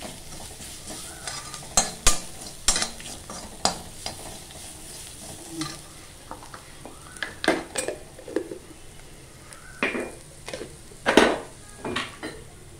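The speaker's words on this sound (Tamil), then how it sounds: "வெண்டைக்காய் பொரி வச்சு நல்லா வதக்கணும்" A spatula stirs and scrapes okra sautéing with turmeric and salt in a sizzling pan, with irregular clanks and scrapes against the metal. No one talks.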